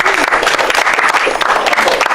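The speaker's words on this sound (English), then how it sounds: "Round of applause who's been to our show." An improv show audience bursts into loud, dense applause close at hand, a steady wash of clapping with a few faint voices mixed in.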